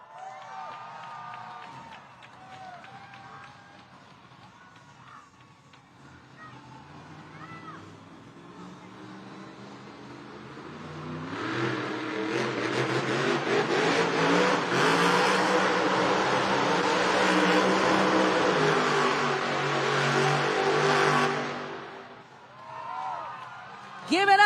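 Earthshaker monster truck engine at a Monster Jam arena event in Edmonton, revving loud and sustained for about ten seconds, echoing over arena ambience, with an announcer's amplified voice and crowd noise before and after the roar.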